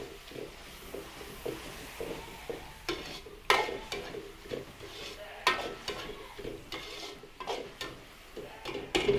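Oyster sauce and chicken powder stirred through vegetables in a pan, a steady scraping and clattering of utensil on metal over a faint sizzle, with several louder knocks and scrapes.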